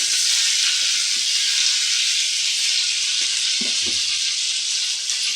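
Curry leaves fry in a pan over a low flame, giving a steady, close sizzle and hiss throughout, with a few faint stirring knocks near the end.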